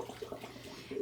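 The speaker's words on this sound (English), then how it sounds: "So let me pour that water out." Boiling water poured out of a glass sterilizing jar, a brief steady splashing gush close by, with no voices.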